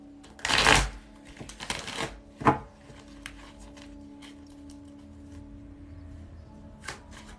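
Tarot cards are shuffled by hand at a live reading, two brisk riffling bursts followed by softer card taps and slides, close and clear with no talking.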